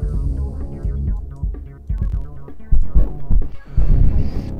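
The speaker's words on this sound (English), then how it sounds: "with DubCenter, the bass is completely centered" Deep, throbbing electronic bass is run through the Airwindows DubCenter plugin, which centers it in the stereo field. Loud low pulses pound in a steady rhythm, with sharper hits toward the end and nobody speaking.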